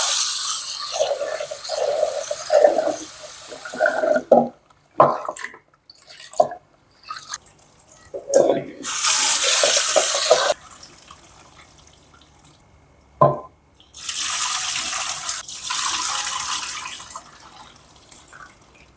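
Orange lentils are rinsed under running tap water, with bursts of splashing and dripping broken by short pauses, close and moderately loud with no talk.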